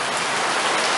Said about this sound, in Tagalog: umuulan dito sa Arroyo